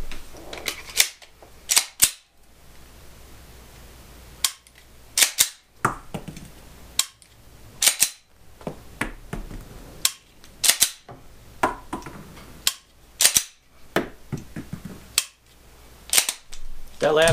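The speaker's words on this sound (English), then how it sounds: "Go ahead and take 5 shots now." Dry-fire trigger practice with a Mantis X training sensor produces sharp, close clicks, short bursts of snaps spaced irregularly over the clip, in a quiet room.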